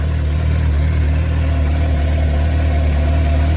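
A 1998 Suzuki GSX-R 750 SRAD motorcycle engine idles steadily at close range after timing work, a loud, even low throb with no voices over it.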